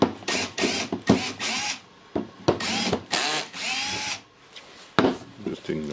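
A power tool runs in a series of short bursts while screws come out of a Makita 18V battery housing. The whirs are close, loud and choppy, with small gaps between them.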